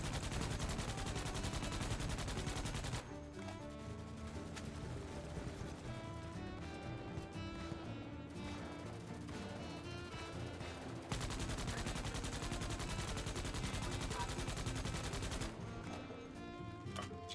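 Enemy gunners unleash sustained bursts of rapid gunfire in the video game Starship Troopers: Extermination, a dense, continuous barrage of shots layered with heavy game effects and music, without any break.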